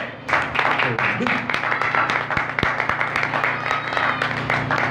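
Applause from a church congregation rises after a short pause and rolls on steadily, dense and fairly loud, with a low steady hum and some voices mixed in.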